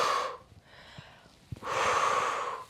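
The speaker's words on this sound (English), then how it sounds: "Getting into that Pilates breathing pattern of breathing out as we pull down." Breath pushed out hard during a Pilates exercise, heard as two breathy rushes of air: a short one at the start and a longer one near the end, with a quieter pause and soft clicks between them.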